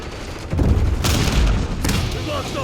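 A frag grenade explosion in the Call of Duty video game, a heavy boom with a deep low rumble around half a second in and a second burst near the middle, followed by a lingering blast tail.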